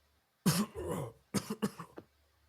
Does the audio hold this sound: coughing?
yes